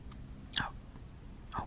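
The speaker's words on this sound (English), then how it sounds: "hopefully you enjoyed the sounds of these two ice cream sandwiches." Close, quiet chewing and biting of oatmeal cookie chocolate ice cream sandwiches, with two soft crunchy bites spaced about a second apart over a hushed background.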